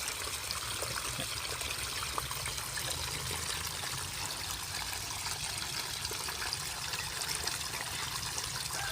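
Water trickles and splashes steadily while a tadpole tank, its water gone dark green, is emptied and refilled; the flow is continuous and fairly close, with no voices.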